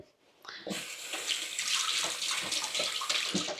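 An item is rinsed under running kitchen tap water, which starts abruptly and then pours steadily and close with splashing variations, with no talking.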